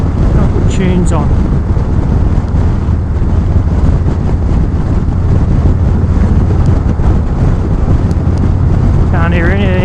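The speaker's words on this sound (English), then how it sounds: "The radio, wow, I hear a lot of wind noise." Heavy, steady wind roar buffets the rider on a 2019 Harley-Davidson Road Glide Special motorcycle at speed, loud and constant throughout, with faint engine and road rumble underneath.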